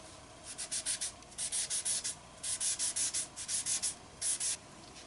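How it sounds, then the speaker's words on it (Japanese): Soft pastel scraped over a tea strainer, then spread with folded cotton on drawing paper: repeated short bursts of dry, scratchy rubbing in quick rhythmic strokes, close and fairly quiet, with brief pauses between groups. "茶こしを使ってパステルを削っていきます。 水色とグレーを削ったらコットンを四つ折りにして塗り伸ばしていきます。"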